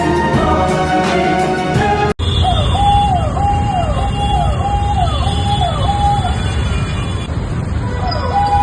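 A loud wailing police-style siren on an MLA's car sweeps repeatedly up and down, close by, over steady vehicle engine noise.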